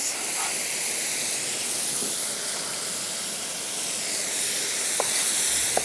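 Onions sizzling in hot oil in a kadhai, a steady broad hiss and frying crackle that holds at even loudness from start to finish, close up, with a few faint sharp pops near the end and no talking.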